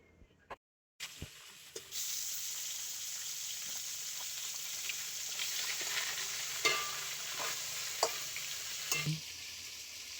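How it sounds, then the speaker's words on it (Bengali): Snakehead fish frying in hot oil in a home kitchen, a steady broad sizzle with crackles and spatters, preceded by a brief silence and a few clinks as the fish goes in. "এবারে আমি সব কটা মাছ ভেজে নেব"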